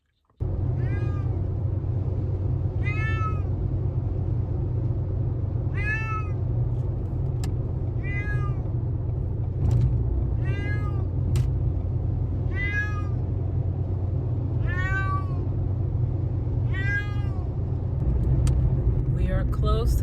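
An unhappy cat in a kennel meows repeatedly inside a moving car, its cries coming at a steady rhythm of roughly one every two seconds over a constant low road and engine rumble.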